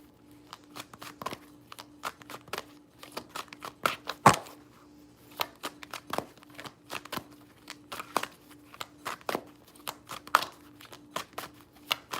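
Playing cards are riffled and shuffled in quick, crisp bursts of flicking and tapping, close by, with no talking.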